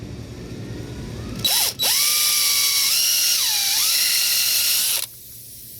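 Drill bit of about 5/32 inch boring out a puncture hole in a flat tire, a loud whining motor that starts abruptly, dips briefly, then runs steadily with shifting pitch before cutting off.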